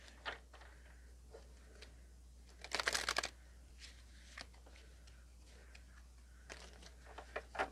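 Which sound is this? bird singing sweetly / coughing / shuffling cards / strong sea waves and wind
shuffling cards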